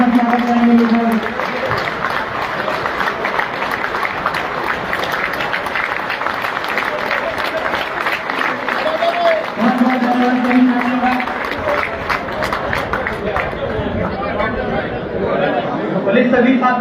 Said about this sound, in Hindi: सभी साथी जोरदार तालियों के साथ स्वागत करेंगे।